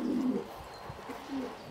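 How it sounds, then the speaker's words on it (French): A pigeon coos softly in a few low, warbling notes, close and alone, with no talk over it. "Ce pigeon est effrayé."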